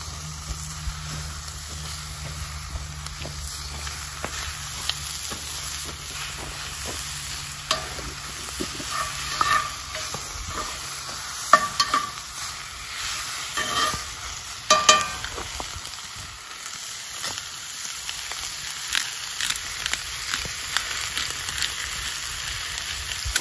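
Chopped ribeye fries in a pan, a steady broadband sizzle with scraping and stirring clatter from a spatula running throughout, close and without talk.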